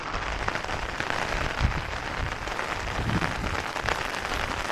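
Heavy rain pours steadily on an outdoor house-building site, a dense, even hiss of drops on surfaces with scattered louder splatters, close and constant throughout with no voices.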